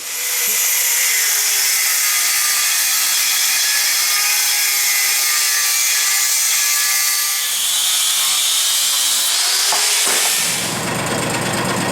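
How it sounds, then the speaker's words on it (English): An angle grinder cuts through a metal piece for a one-jaw vise, a loud continuous high-pitched whine and grinding rasp that runs steadily and close before shifting in tone near the end, with no speech. "let's take the grinder and cut the other piece this way"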